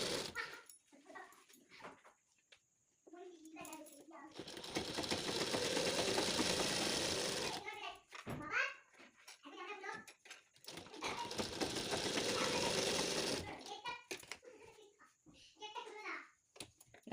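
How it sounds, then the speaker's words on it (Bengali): A sewing machine stitches along the edge of a pillow cover in two long, steady running bursts, close by, with someone talking between them and a dog whimpering and a voice nearby. "এবার ধারে ধারে একটা সেলাই দিয়ে দেবো"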